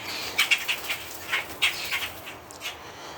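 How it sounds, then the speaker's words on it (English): An agitated mother bird calls with sharp, repeated chirps from up in a tree near her fallen chick, several quick bursts spread over a few seconds against a steady outdoor hiss. "The mama bird, the mama bird up there freaking out."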